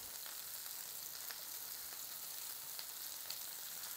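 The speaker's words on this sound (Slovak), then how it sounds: "teraz pekne zemiaky aj cuketu opečem z oboch strán" Potatoes and zucchini fry in a pan, browning on both sides, with a steady, soft sizzle and faint pops throughout and no talking.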